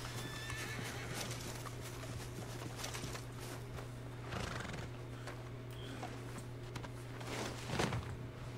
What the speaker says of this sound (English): Where my horse?